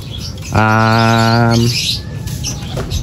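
Racing pigeons at a loft in Gerona, Tarlac, during a training flight: one loud, sustained tonal call lasting about a second, close by, over steady background noise.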